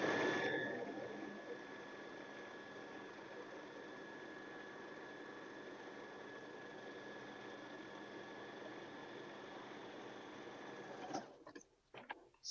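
A sewing machine stitching a shirt collar gives a steady, even motor whir and needle hum for about eleven seconds, faint and close, then stops with a few soft handling clicks.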